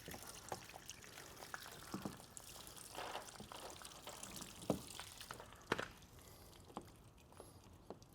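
Water flushed out from under paint protection film on a Tesla Model 3 Highland Performance bumper, a faint soft trickle with scattered small splashes and drips, close and quiet throughout.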